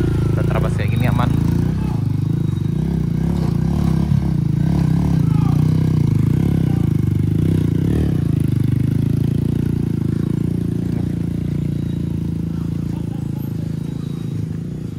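Motorcycle riding through a slippery, muddy road after rain between Pesisir Selatan and Solok, its low engine rumble steady and close throughout, with people talking over it.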